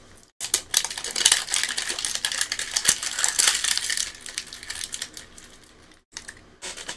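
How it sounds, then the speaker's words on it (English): Crinkly, scratchy rustling of a toy mini ball's outer layer being peeled off, continuous and close for several seconds with a brief break near the end, no talking. "here's time to take the zipper off and peel the outer layer off"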